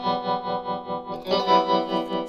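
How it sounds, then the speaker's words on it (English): An electric guitar played through a Swart Space-Tone tremolo pedal set to a hard, choppy cut, sustained chords pulsing rapidly and evenly in volume, with a brighter strum partway through. "so you can tell this is a really intense tremolo unit."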